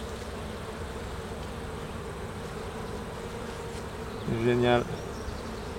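Honeybees swarming over a brood-filled hive frame, a steady close buzzing drone with a brief louder buzz near the end; a person says a single word.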